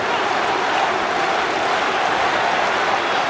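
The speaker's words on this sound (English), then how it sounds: "The crowd shouting for Portugal." Rugby crowd in a stadium at Saint-Étienne roaring and shouting for Portugal during a 2007 match against Scotland, a dense, steady wall of distant voices with no breaks.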